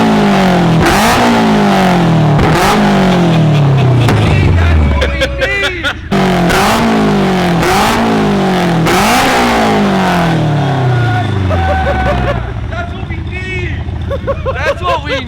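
Toyota AE86 engine revving hard in repeated rising and falling bursts, with crackling popping exhaust on deceleration as flames shoot out, loud and close, with voices talking over the revs.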